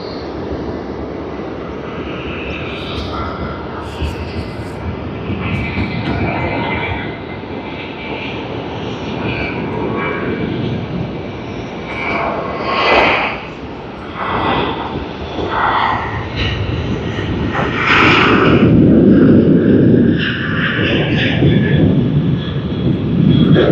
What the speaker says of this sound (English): Virgin Australia just departing in the background